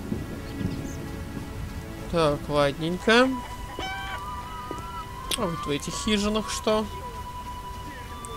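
Rain in The Witcher falls as a steady, soft hiss beneath someone speaking, with a few brief game sounds standing out in between.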